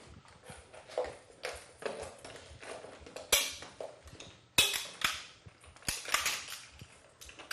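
A machine-gun ammunition belt being loaded during Canadian Forces weapons training, a series of sharp metallic clacks and clicks at irregular intervals, close and distinct in an otherwise quiet setting.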